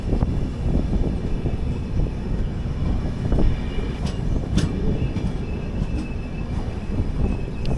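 The 20601 Chennai–Bodinayakanur AC Super Fast train runs into the loop line at Usilampatti station, heard from inside an AC 3-tier coach as a continuous clattering rumble with scattered wheel squeals and clanks.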